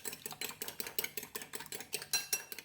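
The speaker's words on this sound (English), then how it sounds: "Beat the eggs until well combined." Fast rhythmic clinking of a utensil beating three eggs with pepper, salt and chili in a mixing bowl, a steady run of sharp close strokes with no talking.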